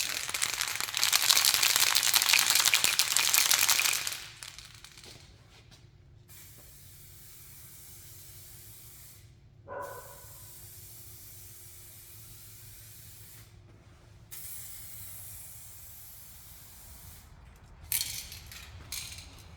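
Aerosol spray paint can laying a coat on a Volkswagen GTI, a loud steady hiss for about four seconds, then quiet with a few short faint bursts later.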